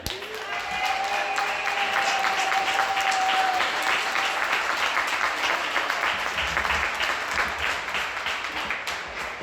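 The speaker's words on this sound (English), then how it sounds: "can we give a big old round of applause for Mr." Sustained applause from a crowd at a Louisville Dirt Bowl Hall of Fame awards ceremony honoring Cornell Bradford, steady clapping filling the room with a brief whistle early on and no talk over it.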